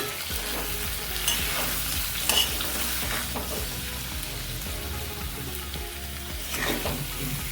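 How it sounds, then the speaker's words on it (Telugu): Taro root pieces coated in masala, salt and kasuri methi fry in oil, with a steady close sizzle and repeated scraping stirs over it throughout. "ఒక 2 నిమిషాలు ఇలా మిక్స్ చేసుకుంటూ వేపుకోవాలి. మసాలాలన్నీ బాగా నూనెలో వేగాలి."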